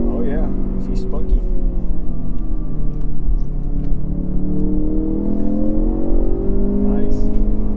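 A Ford Focus RS engine rises and falls in pitch as it revs while driving, a steady in-cabin drone with a gear change partway through, under talk.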